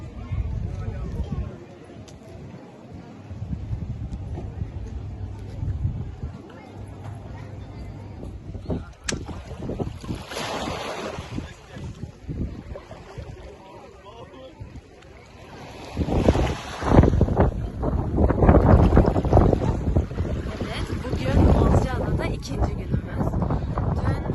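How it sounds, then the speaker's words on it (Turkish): Strong wind buffets the microphone in heavy, rumbling gusts, growing louder and rougher toward the end, with a person talking intermittently underneath. "Yine çok rüzgar var"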